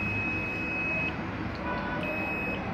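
A multimeter emits a steady high-pitched continuity beep during a test on a three-phase distribution panel, a sustained tone broken by a brief gap, with faint background noise.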